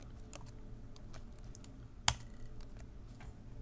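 Quiet computer-keyboard typing into a software search box, a few light scattered keystrokes over a low background hum, with one sharper click midway; no one speaks.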